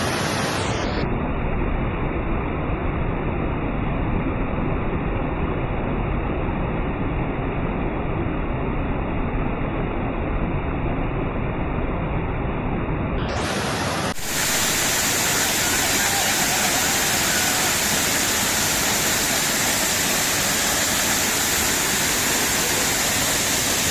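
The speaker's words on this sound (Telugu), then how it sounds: "కొండలపై నుండి ప్రవహిస్తున్న వరద నీరు జలపాతాన్ని తలపిస్తోంది." Flood water pours off the Ananthagiri hills in Vikarabad district as a waterfall, making a loud, constant broadband rush that never lets up, with a sharp change in its tone partway through.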